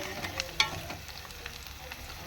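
Crushed garlic sizzles steadily in a hot pan for a tomato curry, with a few sharp clinks of a spoon stirring near the start, close and moderately quiet.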